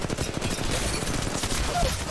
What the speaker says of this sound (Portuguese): tem tiro ali na frente, os caras tão tretando